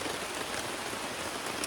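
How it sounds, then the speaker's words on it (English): Heavy rain pours down on a campsite beside a long-distance hiking trail near the Massachusetts line, a dense, steady hiss of drops drumming on surfaces, close and loud, with no one speaking. "it started downpouring again"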